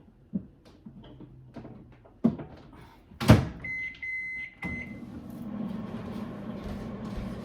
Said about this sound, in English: So this goes in the microwave for